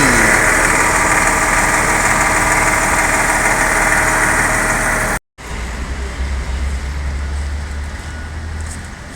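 A Hino RK truck with its original engine idles steadily and loudly up close, a continuous rumbling drone that drops out for a brief moment partway through and then carries on with the same low throb.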